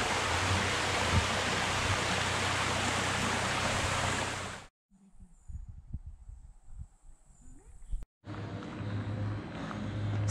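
A cold Alpine mountain stream rushes loudly in a broad, steady roar, then cuts to a quieter stretch with scattered knocks and faint sounds before the rushing water returns.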